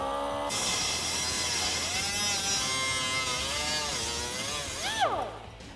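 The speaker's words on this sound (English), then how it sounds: "with a pair of safety glasses as well as your cutoff wheel, what we're going to do is go ahead and trim the back plate." A cutoff wheel grinds steadily through a Jeep Wrangler brake back plate, a loud, close, continuous high whine whose pitch dips and swoops as the cut loads the wheel, then tapers off at the end.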